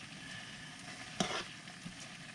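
Shrimp for fa'alifu sizzle and fry in a pan, a steady crackle with one sharp scraping toss near the middle and a faint clink later, fairly quiet and without speech.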